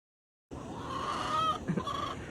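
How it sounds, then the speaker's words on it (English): Chickens cluck and murmur together inside an urban farm's chicken house after a moment of silence, a busy, moderately close chorus of fowl sounds. "this building doesn't have people in it, it has chickens."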